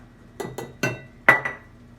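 Flour measured out by the cup and tipped into a single mixing bowl of banana bread batter, heard as four or five sharp clinks of a measuring cup striking the bowl's rim in an irregular sequence, fairly close.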